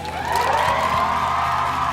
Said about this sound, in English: Oh, what are you people cheering for?